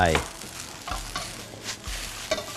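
Raw shrimp tossed into a pan of stir-fried thin rice noodles for three-flavored Thai noodles, making a soft sizzle broken by a few sharp clatters of the spatula against the pan, close and fairly quiet.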